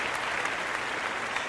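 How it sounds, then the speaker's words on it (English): Dense, steady applause from an audience of student athletes at a school athletic celebration, a continuous wash of many hands clapping at moderate distance with no talk over it. "Give yourselves a round of applause."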